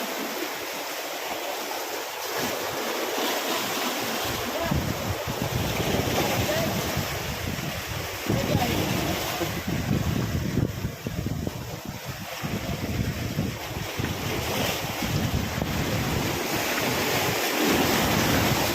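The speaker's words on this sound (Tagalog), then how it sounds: "sobrang lakas ng hangin dito. Hangin tsaka ng alon." Strong wind buffets the microphone with a constant roar, and ocean waves wash and surge underneath.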